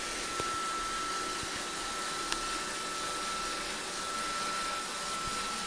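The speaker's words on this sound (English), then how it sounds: "Bob, do you have something else to do other than watch the vacuum?" A Roomba robot vacuum cleaner running across a kitchen floor, a steady even whirring hum with a faint tonal whine and a couple of tiny clicks, moderately close and constant, with no talking.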